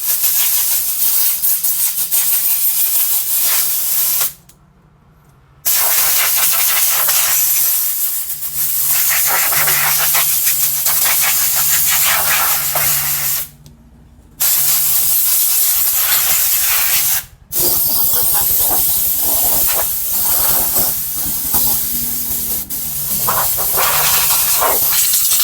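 Compressed air from a 3HP 100-litre oilless air compressor line blasts as a loud, steady hiss, broken by a few short pauses, close by with no talk over it.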